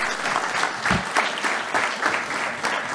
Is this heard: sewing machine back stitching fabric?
no